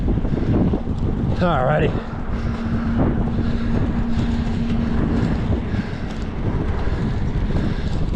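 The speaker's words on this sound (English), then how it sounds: "Maybe the wind it will if it's on the mic." Wind buffeting a microphone during a bike ride through Banning Lewis Ranch in Colorado Springs, a loud, constant low roar and rumble throughout, with a voice briefly speaking over it.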